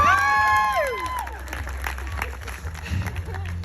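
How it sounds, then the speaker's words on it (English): Wedding reception guests break into cheering and a crowd roar with clapping, loud at first and then fading into a busy murmur of the room. "Now everyone give Kathy a round of applause"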